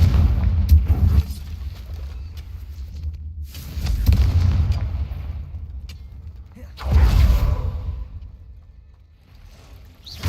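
Confringo fire spell bursts in Hogwarts Legacy, three deep booming blasts spaced a few seconds apart, each fading into rumble, with background game noise between them.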